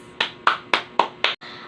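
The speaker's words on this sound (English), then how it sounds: "Give yourselves a round of applause" A classroom of students claps in sharp, evenly spaced bursts, about five crisp claps in a steady rhythm, close and alone with no talking.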